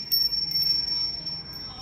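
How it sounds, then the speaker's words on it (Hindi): A small bell from a home temple rings with a thin, clear, high-pitched tone that sustains and slowly fades. It is fairly close and sounds over quiet room tone. "और एक घंटी।"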